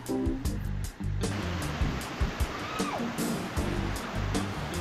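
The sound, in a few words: waterfalls along the Mt. Batolusong hiking trail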